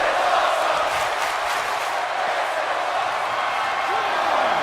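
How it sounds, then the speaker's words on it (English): A wrestling crowd on its feet roars and cheers at a live event, a dense, loud and continuous wall of voices with scattered whoops, while commentators talk over it. "You can hear this crowd on its feet after Spike just did that"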